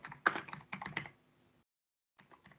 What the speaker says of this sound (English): if I am typing cout hello world